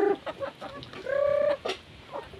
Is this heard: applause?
no